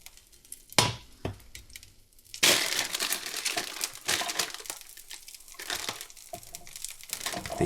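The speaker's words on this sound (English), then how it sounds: "The easiest way to trim your asparagus is simply by snapping it at the end" Fresh asparagus spears are snapped by hand to trim their ends, giving a few crisp isolated cracks followed by a busier run of crunchy snapping and rustling at close range.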